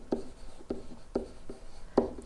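Marker or chalk strokes on a board during a geometry lesson, four distinct scratchy taps and scribbles spaced roughly half a second apart, close and fairly quiet.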